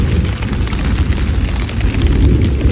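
Dense, even hiss of steady rain falling nearby on a tomato farm, constant and fairly loud throughout with no other sounds standing out.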